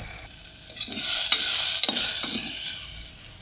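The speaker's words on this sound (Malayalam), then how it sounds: "ഇത് നല്ലതുപോലെ ഒന്ന് ഫ്രൈ ആവട്ടെ ഒന്ന് ഇളക്കി കൊടുക്കുക" Ingredients fry in a pan with a loud, steady hiss while a spoon stirs them, producing several clear scrapes and clinks near the middle, with no voices.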